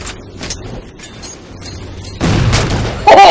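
A grenade blast in the Halo 4 multiplayer game on the Landfall map: scattered quieter gunfire, then a sudden loud booming explosion that rumbles on, followed by another sharp burst.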